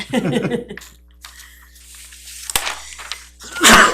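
A single loud, sharp sneeze bursts out near the end, following quieter talk and room noise during an October 2025 CIP meeting, with people speaking beforehand.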